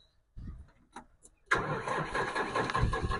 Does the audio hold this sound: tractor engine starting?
yes